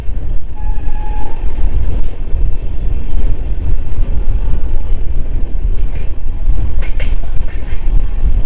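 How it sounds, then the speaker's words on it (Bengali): Siliguri–Katihar DEMU train 75-744 passes near Kishanganj with a loud, continuous rumble and rattling rolling noise, plus a few sharp metallic squeals and clicks, steady throughout. "আমরা কিষানগঞ্জের কাছাকাছি আছি, আর এখনই দেখা হয়ে যাবে 75-744 শিলিগুড়ি কাটিহার ডেমুর সঙ্গে।"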